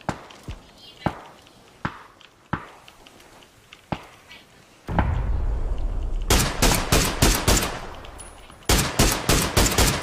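Gunfire in a tactical shooter video game: single sharp shots spaced apart, then a dense stretch of rapid automatic bursts over rumbling explosions, with game voice chat faintly underneath.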